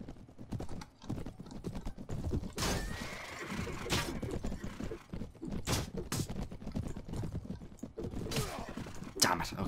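In Mount & Blade: Warband, horses whinny amid a steady clip-clop of hooves during a chaotic mounted skirmish, with clattering impacts and thuds scattered throughout at a moderate, somewhat distant level.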